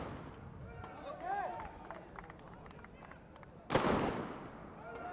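Sniper rifle shots fired by police teams at a SWAT challenge, one sharp, loud crack ringing out over a distant crowd murmur, followed by a brief decaying echo; faint scattered chatter and movement fill the background.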